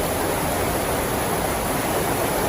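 Heavy rain pours down in a dense, steady hiss, loud and unbroken throughout.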